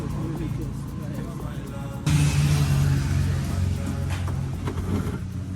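A car engine loaded with heavy slabs runs at a steady low rumble, growing louder and rougher midway as it revs under quiet voices nearby.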